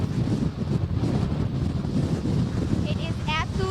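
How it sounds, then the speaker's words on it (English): Strong gusty wind roars into the microphone at a marina in a constant, loud buffeting rush, while a reporter speaks over it. "It is absolutely so windy out here right now."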